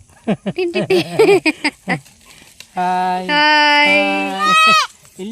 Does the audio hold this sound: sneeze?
no